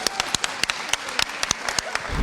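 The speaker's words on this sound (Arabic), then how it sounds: "صفقوا له." Audience at a stage interview breaking into applause, scattered sharp claps at an irregular pace rather than a full ovation, moderately close and fairly sparse.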